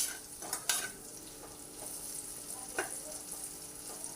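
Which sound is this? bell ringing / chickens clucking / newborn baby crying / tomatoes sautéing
tomatoes sautéing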